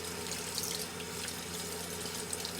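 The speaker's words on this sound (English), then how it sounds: "Take your brush, cold water, hot water, doesn't matter. Rinse it." A shaving brush is rinsed under a running tap, the water pouring steadily and loudly into a sink with no pauses, close and alone.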